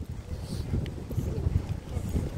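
Strong wind buffets the microphone in low, gusty rumbles, steady throughout with no clear voices.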